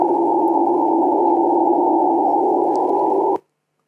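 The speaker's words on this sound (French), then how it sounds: "ce sont des singes hurleurs qui sont à 2 km de là" Howler monkeys calling about 2 km away in the Amazon, a steady, muffled droning roar that holds evenly and then cuts off abruptly near the end.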